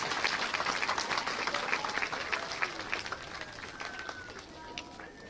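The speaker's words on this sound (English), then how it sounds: "Let's give everyone a round of applause, because everyone had a part to play in this." A crowd claps steadily at a ground-breaking ceremony for Blackwater Community School, a sustained outdoor round of applause that tapers slightly toward the end.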